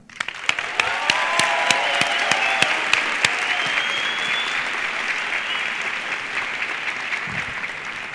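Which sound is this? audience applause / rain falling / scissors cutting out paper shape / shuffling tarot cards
audience applause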